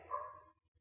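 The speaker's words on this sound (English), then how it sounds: "Apologies about the dogs outside if you can hear them." Dogs barking outside, a single muffled bark-like burst heard faintly through walls, quickly fading into quiet.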